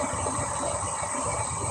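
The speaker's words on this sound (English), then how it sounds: "That means it's a long train, guys." A long freight train passes over a railroad crossing, a steady, continuous rumble with hiss and rolling noise, constant in loudness and with no pauses.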